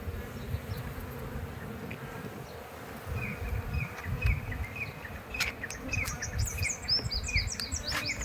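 Honey bees at a bee farm near Hatta in the UAE make a steady close buzz and hum, with high chirps and tweets scattered through and no voices.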